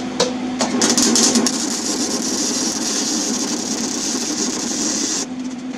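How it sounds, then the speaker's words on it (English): Welding a nut onto a 3/4 inch bolt in a Chevy S10 LT1 V8 build: a steady buzzing, crackling arc held close and loud for several seconds, with a few sharp ticks at the start before it stops abruptly. "Now we just gotta weld it on."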